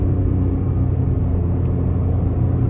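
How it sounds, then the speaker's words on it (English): Steady interior drone of a 2024 Mitsubishi Mirage ES with a CVT as it drives, a constant low engine and road rumble that stays loud and even throughout. "So starting the test drive in this Mirage ES"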